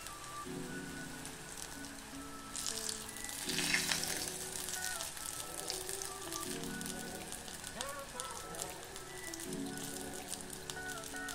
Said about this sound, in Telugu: మనము ఈ కట్లెట్స్ ఫ్రై అయ్యేటప్పుడు వెంటనే గరిటె పెట్టి తిప్పకూడదు.